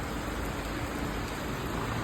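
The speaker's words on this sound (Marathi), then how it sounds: "या दिवसामध्ये चक्क आज पाऊस पडत आहे" Winter rain falls steadily in Pune in a dense, even hiss, close and continuous with no voices or pauses.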